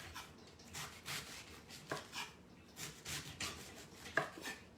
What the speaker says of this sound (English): I'm gonna finish it off with the chef knife.